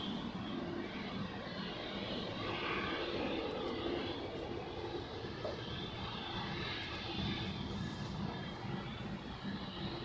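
An airplane taxis at Zurich Airport, its engines giving a steady, broad roar that holds level throughout, moderately distant and with no voices.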